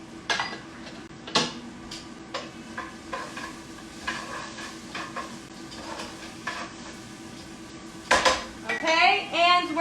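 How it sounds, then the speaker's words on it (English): Chopped onions sizzle in a pan on the stove, with a utensil stirring and scraping against the metal in repeated clinks; a soft hum runs under it and the stirring grows busier near the end. "we're going to saute these onions for about a minute or two"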